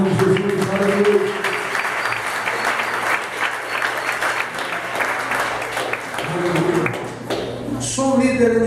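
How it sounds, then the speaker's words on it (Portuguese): Church congregation clapping in praise during a Portuguese-language service, steady crowd applause throughout with a voice and musical tones rising over it. "Aplauda o Senhor em nome de Jesus."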